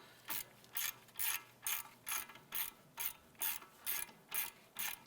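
A ratchet loosens the brake caliper bracket bolt on a 2006-2011 Cadillac DTS, giving about eleven crisp, evenly spaced clicking bursts, close and clear with no talking.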